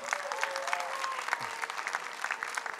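A studio audience at a televised music competition final claps in a dense, steady round of applause with a faint voice underneath, sustained evenly from start to finish.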